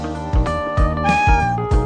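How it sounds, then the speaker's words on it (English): A generic cat meow sound effect repeats several times in quick succession, each meow clear, loud and close with no other sound around it. "The generic meow sound effect from Ketchi."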